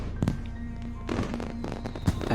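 Fireworks from the visual novel game Katawa Shoujo go off as a few sharp crackling pops and bursts close together over a low steady background tone.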